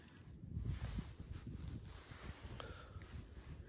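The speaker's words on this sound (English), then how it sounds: "Wind's starting to pick up just a little bit, but it's going to get windy." Wind starting to pick up by a river in late winter before a storm, blowing in gusty rushes across the microphone with some rustling.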